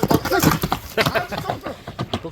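A saddled horse moving close by, with uneven clip-clop hoof beats and snorting or breathy animal sounds in irregular bursts, loud and near.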